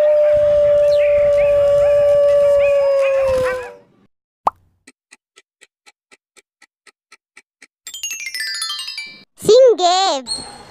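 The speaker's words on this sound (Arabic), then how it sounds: "ذئب" A wolf howling in one long, steady, sustained note for about four seconds, loud and alone, followed by a sharp pop, a row of regular ticks and other brief animal sounds.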